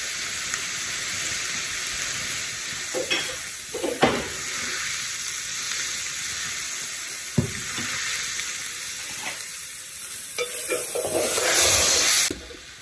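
Food with olive oil sizzles and fries steadily in a pan in a home kitchen, a dense continuous hiss broken by a few utensil knocks and stirring bursts, swelling louder near the end.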